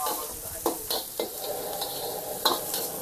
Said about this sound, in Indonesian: Lepas tu kita kena tumis bawang besar dah.